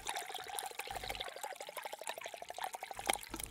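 Water pours into dough in a cooking restaurant video game on PS4, a short soft gurgling trickle with a rapid bubbling rhythm, fairly quiet and heard on its own.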